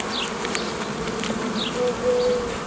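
A steady drone of honeybees rises from an open hive as frames are lifted to build a new colony in May, close and continuous, with thin tonal whines of single bees passing near.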